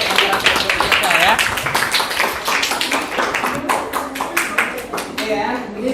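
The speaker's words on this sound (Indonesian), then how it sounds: "kasih tepuk tangan untuk kelompok kita ya" A group of students applauds in a classroom, a few seconds of scattered, dense hand claps with voices chattering over them.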